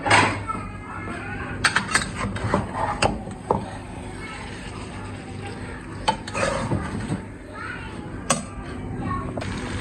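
Fried eggplant and potatoes being mixed into masala in a pan, clattering spoon scrapes and knocks against the pan over a low sizzle, with a voice and background chatter mixed in.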